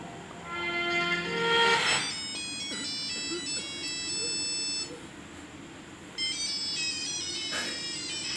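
Electronic phone ringtone playing in an Indonesian one-minute short film, a bright repeating melodic tone that sounds twice with a gap between, joined by low background music.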